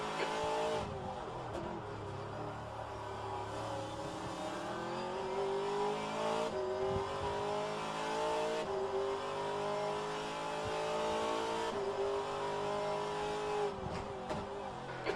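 Race cars at the Long Beach street circuit in rFactor 2, engines whining steadily at high revs with rising and falling pitch through gear changes as a group of cars runs together, continuous and fairly faint.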